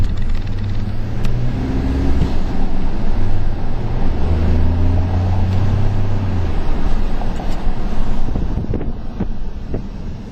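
A 2011 Ford F150 Lariat EcoBoost with a twin-turbo V6 pulls hard while driving, its engine drone rising in pitch beneath constant wind and road noise heard from inside the cab.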